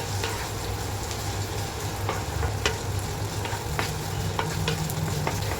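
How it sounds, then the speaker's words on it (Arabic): Small-diced onion frying in oil and stirred, a dense continuous loud sizzle with regular sharp scrapes of a spoon against the pan, close up and alone. "وهننزل بيها على طول في الزيت. هقلب كده لحد ما البصله تدبل معايا."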